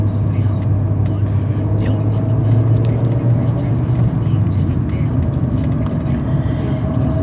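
Steady road traffic on a Brazilian federal highway with many trucks, a continuous low engine and tyre rumble held close and loud throughout, with a faint voice murmuring beneath it.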